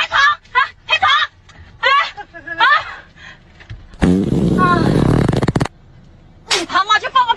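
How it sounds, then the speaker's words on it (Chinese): A loud, rasping fart lasting about a second and a half, set between short bursts of close-up talk indoors in a small closed room. "你他妈去放个屁呀"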